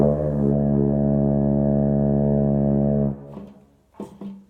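A single sustained low euphonium note, B natural played out of tune, buzzy and slightly sour in pitch, held for about three seconds before stopping, followed by faint rustling.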